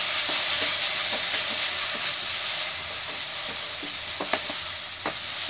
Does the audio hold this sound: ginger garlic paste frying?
yes